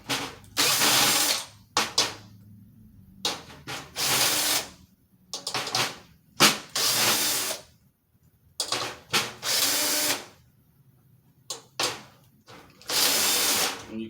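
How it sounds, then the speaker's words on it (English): A cordless drill fitted with a drum key spins out the tension rods of a snare drum's top head, several loud whirring bursts separated by short pauses, with no talking. "I'm going to be using a drum key that's fit into a drill"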